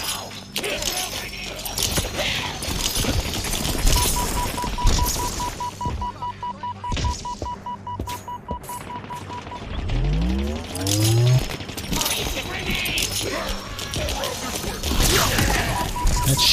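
Bursts of gunfire and mechanical weapon clatter in a Halo campaign on Heroic difficulty, mixed with electronic game tones and a rising whoosh, with a person talking over the action.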